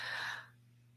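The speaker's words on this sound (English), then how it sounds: "Take a deep breath." A single deep inhaled breath, close and fairly loud, drawn in over about half a second and then fading into a quiet steady hum.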